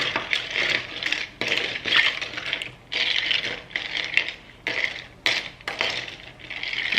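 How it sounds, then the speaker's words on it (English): A spoon stirs a pineapple coconut mojito in a glass, giving bursts of bright clinking and scraping in an uneven rhythm, close and moderately loud, with no voices. "And we're just gonna stir it up."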